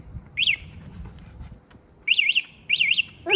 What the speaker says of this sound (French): Elle sonne. Il y a l'alarme d'origine, les gars.